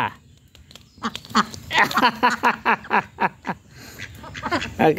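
A pet duck quacks in a rapid run of loud, close calls, with quieter sounds before and after.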